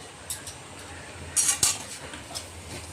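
A spoon stirs a spoonful of homemade garam masala into a vegetable curry in a pan, making soft scraping and a few distinct metallic clinks, with one brief louder clatter in the middle.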